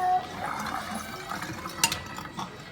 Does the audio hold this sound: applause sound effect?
no